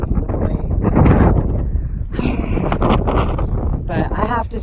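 Strong wind gusts buffet the microphone on a hiking trail among hoodoos along the Continental Divide Trail, producing heavy low rumbling bursts that rise and fall beneath a person talking.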